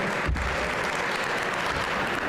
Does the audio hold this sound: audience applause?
yes